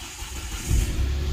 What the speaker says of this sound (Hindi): स्टार्ट करते हैं गाड़ी